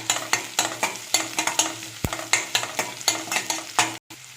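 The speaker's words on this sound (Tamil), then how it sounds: "பெரிய வெங்காயம், நெக்ஸ்ட்டு கருவேப்பிலை, இது எல்லாமே நல்லா ஃப்ரை ஆகட்டும்" Sliced big onions and curry leaves fry in oil for poori masala, a soft sizzle broken by regular stirring scrapes of a spoon in the pan, with one sharp knock.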